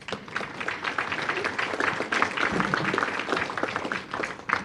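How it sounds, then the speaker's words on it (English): Banquet audience applause at an annual awards dinner, dense clapping from a large room that swells and holds throughout, with no voice over it. "So give yourselves a round of applause."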